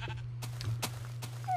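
Sheep in the video game Minecraft bleat in a few short, bright bursts spaced about every half second, heard over a steady low electrical hum.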